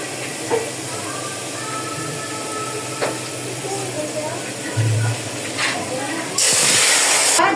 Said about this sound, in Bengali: রসুন দিয়ে, শুধু রসুন দিয়ে আমি বাগার দিব। রসুনটা ভাজি হয়ে গেছে